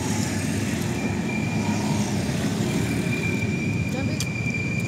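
A light rail train rumbles past nearby with a steady low roar and faint metallic squeals, while people talk indistinctly at a roadside food spot in Palembang, Indonesia.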